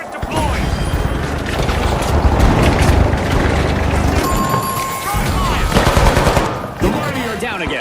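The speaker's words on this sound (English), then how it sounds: "Turret deployed!" A deployed turret in The Finals fires a rapid, sustained, loud stream of shots with mechanical clatter and impacts, close by in a chaotic fight, and a voice talks briefly over the firing.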